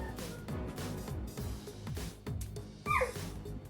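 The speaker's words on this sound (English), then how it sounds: "Your pup, Mo, is making the most adorable noises" A pet pup named Mo whimpers and makes soft sing-song noises, a close run of low whines and small yips over a steady background hum, with a brief higher squeal near the end.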